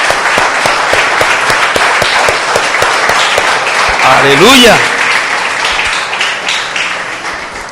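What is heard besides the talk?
congregation applauding in church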